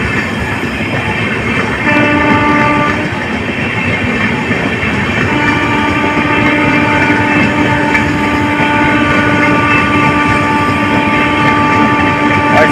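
A train with new LHB coaches rolls through a railway station at Pirthiganj, giving a loud, continuous rumble with wheel clatter and sustained horn-like tones that persist for the whole stretch.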